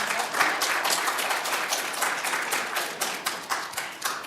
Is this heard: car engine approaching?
no